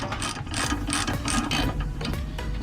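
A ratchet fitted with a 10 mm deep socket loosens a transmission pan bolt on a Lexus, producing a continuous rapid clicking of the pawl, close and loud.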